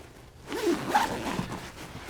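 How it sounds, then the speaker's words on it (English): A single zipper on an Empire F6 XLR duffle backpack is pulled open in one smooth, close, ripping stroke lasting about a second. "Where are my zippers?"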